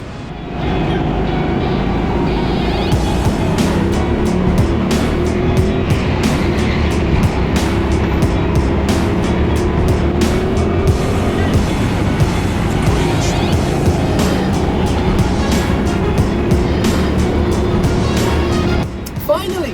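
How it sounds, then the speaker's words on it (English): Racing go-karts roar continuously and loud on an indoor-style track, engine noise steady throughout with someone narrating over it. "As they're building back up the pace, a kart behind finds their way in front of me."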